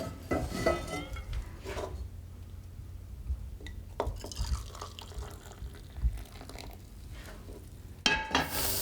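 A spoon stirs and scrapes blue corn bread batter in a mixing bowl, giving irregular close clinks and knocks with wet mixing sounds in between, and a louder clatter near the end.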